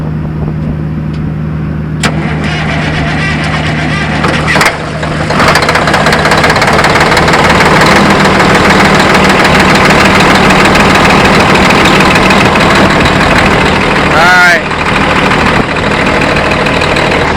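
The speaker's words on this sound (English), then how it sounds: "This is a Cummins ISX." A Cummins ISX truck diesel engine idling up close at a farm during corn harvest, a loud steady rumble with knocking pulses, a brief clatter near the start and a squealing whine near the end.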